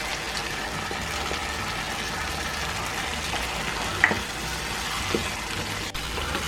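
Yogurt goes into mutton karahi frying in a pan, bringing a steady, close sizzle and crackle that runs the whole time with small stirring knocks and no voices.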